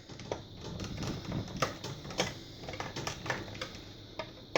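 Butter knife prying along the plastic seam of a Nerf Raider blaster, producing faint irregular clicks, ticks and creaks at close range, with no talk.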